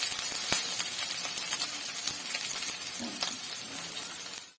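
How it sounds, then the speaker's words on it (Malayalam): Ginger, garlic, green chili and onions sizzle and fry in a pan for a Kerala-style crab roast, a constant crackling hiss broken by sharp metallic clinks as a utensil stirs and taps the pan. "സവാള ഇട്ട് നമുക്കെല്ലാം കൂടെ ഒന്ന് വഴറ്റിയെടുക്കാം"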